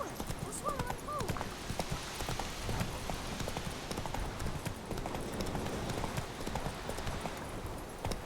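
Roach, the horse in The Witcher 3 video game, gallops with a steady, rapid clip-clop of hooves that runs throughout at a constant level, with a brief whinny-like call early on.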